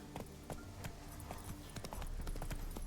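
Roach the horse trots in The Witcher 3, a steady, fairly quiet patter of hoof clip-clops over a low game ambience.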